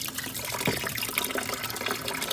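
Washer fluid drains out of the washer reservoir of a 2005 Mercedes C240, a close, splashy gush of liquid pouring and trickling in short surges.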